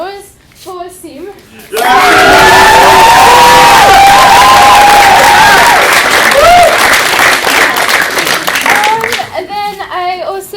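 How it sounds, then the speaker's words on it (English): Following a brief spoken introduction, a burst of loud crowd applause with cheers and children's shouts erupts for a cast member at a school stage show, sustained then gradually thinning. "And a special round of applause for Sim."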